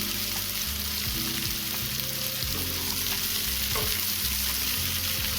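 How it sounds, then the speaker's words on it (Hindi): Mixed vegetables and capsicum fry in a hot pan with a continuous crackling sizzle and faint stirring noises, steady and close throughout. "तो चलिए सारे वेजिटेबल डाल देते हैं फ्राई होने के लिए।"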